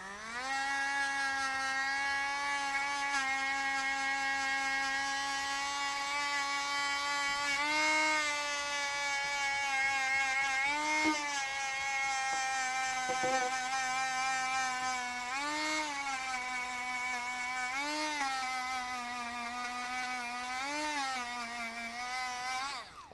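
A rotary buffing tool with a felt pad whines steadily at close range, holding a constant motor pitch with a few brief dips where load from rubbing a beeswax block slows it, running continuously with no voices.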